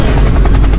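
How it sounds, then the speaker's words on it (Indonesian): Helicopter in a Minecraft animation, a loud close rotor drone with steady rhythmic thudding filling the moment. "Helikopter, helikopter!"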